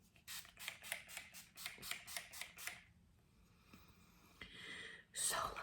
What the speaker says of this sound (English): So let's just do a little spray.